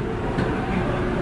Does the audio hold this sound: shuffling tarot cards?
no